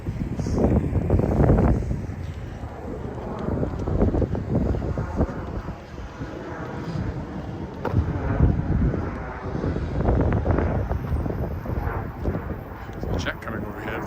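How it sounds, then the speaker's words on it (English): A jet airplane passes overhead while taking off or landing near South Albert Street in Regina, a broad steady roar heard outdoors under wind buffeting on the microphone and footsteps. "Jet coming overhead, but I haven't seen it yet."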